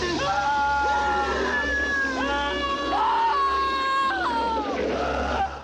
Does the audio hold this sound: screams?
yes